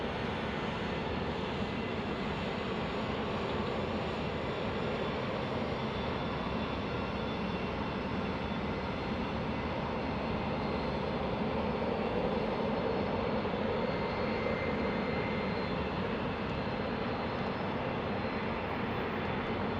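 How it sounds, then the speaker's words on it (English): An Airbus A330-900neo jet airliner at Salt Lake City International Airport roars steadily and loudly throughout, a broad continuous engine rumble with no voices. "It's an A330-900, a Neo."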